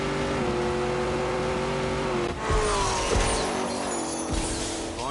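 A supercharged Corvette Z06 launches in The Grand Tour racing game, its engine revving hard and climbing through gears with a loud, roaring exhaust note.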